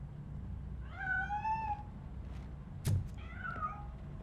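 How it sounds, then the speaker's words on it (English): A cat meows in the video game Robocop: Rogue City, two drawn-out rising-and-falling cries separated by a short sharp knock, set against a low, steady background hum. "I think it's coming from the piano. That cat must be hiding inside."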